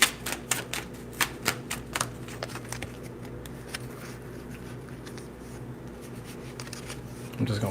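Oracle cards being shuffled, a string of sharp riffling snaps and taps early on that thin out into quieter handling, with a faint voice in the background.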